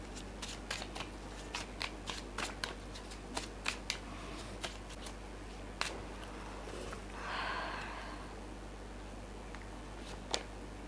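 Tarot cards shuffled and handled at a reading table, a run of crisp, rapid card flicks and snaps early on, a brief riffling swish in the middle, then a few isolated flicks, fairly close with no talking.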